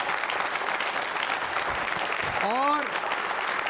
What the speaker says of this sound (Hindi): तो एक बार अपने लिए तालियां जोरों से बजाइए आप